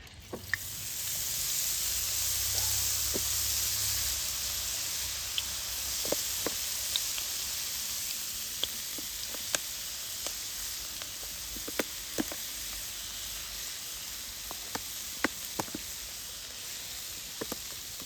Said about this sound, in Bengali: ভুজিয়াগুলো ভাজতে খুব একটা দেরি হয় না তেলে দেওয়ার সঙ্গে সঙ্গেই ওপরে উঠে আসে